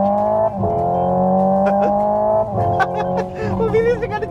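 Hyundai Ioniq 5 N electric car driving along with a smooth, steady tire and road hum and a whine that holds level and then shifts pitch, while people inside talk over it.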